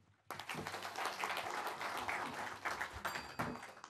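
A crowd in an assembly hall bursts into sustained applause at a party floor-leader election, a dense wash of clapping that starts abruptly and holds steady for several seconds.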